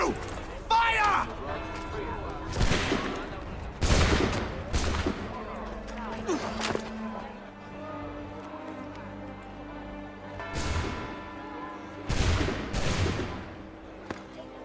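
Musket volleys crack out in the Assassin's Creed game, several loud, sharp bursts spaced a second or two apart, with game voices speaking among them.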